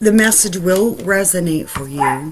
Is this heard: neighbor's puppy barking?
yes